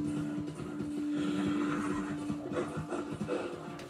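A horse in the video game Red Dead Online gives a long, loud whinny, with soft hoof clops and rustling around it.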